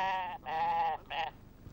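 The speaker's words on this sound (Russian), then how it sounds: "Ах, ребята! Овца рожать собралась!" A sheep about to give birth bleats in three quick, wavering calls, close and moderately loud, the last one shorter.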